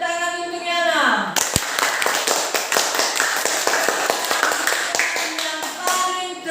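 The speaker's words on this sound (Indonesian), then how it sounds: "Tepuk tangan untuk Yana." Classroom audience of students clapping for a classmate, a quick burst of many sharp, close hand claps running for several seconds after a voice finishes speaking, then fading as speech resumes.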